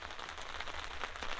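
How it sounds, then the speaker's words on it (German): Steady rain falls outdoors, a continuous dense hiss of drops on surfaces with no voices over it. "es regnet schon schön."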